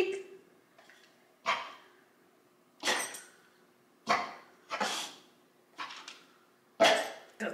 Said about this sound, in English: then 20 minutes later, a bark comes out